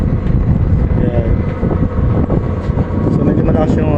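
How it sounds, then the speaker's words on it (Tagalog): Aboard a boat at Cuyo Port, Palawan, a loud engine drones steadily from the roof deck in a constant low rumble, buffeted by wind noise throughout. "So medyo malakas yung ugong ng makina."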